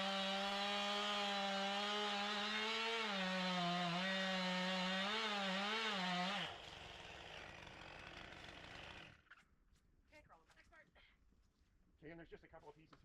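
A chainsaw cutting a fallen red oak runs loud and steady, its pitch rising and falling under load, then drops to a rough idle before cutting out, with a few brief clatters afterward.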